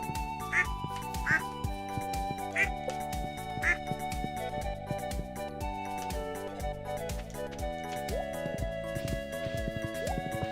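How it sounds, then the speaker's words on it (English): Ducks quack in the farming video game Stardew Valley, several repeated calls spread across steady background music with no talking. "Look how happy the ducks look."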